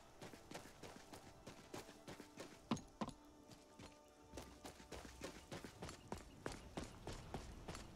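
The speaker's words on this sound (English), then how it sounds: "You see my horse?" A horse in Skyrim trots with a quick, regular clip-clop of hooves, faint overall, pausing briefly midway before the rhythmic footfalls resume steadily.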